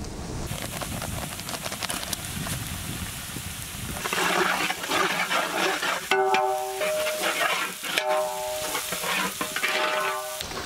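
Onions fry and sizzle in a pan while being stirred, with a continuous close crackle and scraping stirs, and a few brief tonal clinks near the end.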